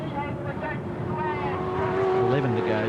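AUSCAR/NASCAR stock cars roar around the track in a heat race, a continuous, dense engine drone with pitch shifts as cars pass, heard under a commentator's voice.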